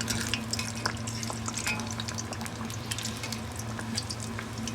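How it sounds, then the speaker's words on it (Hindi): Spicy gram-flour coated fish frying in a pan over a medium-low flame, a steady close crackle and sizzle with scattered pops and a low background hum throughout, no voices. "मीडियम से कम फ्लेम पे मैंने इसे तकरीबन 2 मिनट के लिए फ्राई होने दिया है"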